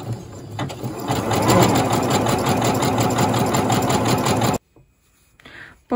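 A sewing machine fitted with a patchwork presser foot stitches fabric in a loud, fast, steady mechanical whir with rapid needle ticking, then stops abruptly, leaving a short near-silence and a brief soft rustle.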